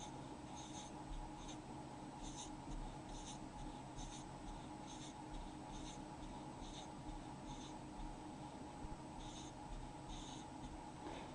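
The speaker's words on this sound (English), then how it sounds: "I'm going to draw these as counters on the side." Counters being drawn on paper with a pen or pencil during a division lesson: steady, close scratchy strokes in short repeated bursts across the whole stretch, with no talking.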